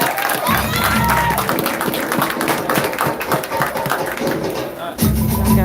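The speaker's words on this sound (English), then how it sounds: "Joshua, give him a round of applause, please." An audience applauds and cheers for a young steel pan soloist at a live pan solo competition finals, steady clapping with crowd noise running under an announcer's voice, with a brief low musical swell at the start and end.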